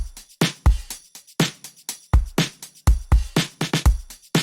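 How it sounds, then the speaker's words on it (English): A punchy drum beat with kick and snare hits layered over quick, crisp hi-hat ticks, steady and close. "I added a kick and snare drum"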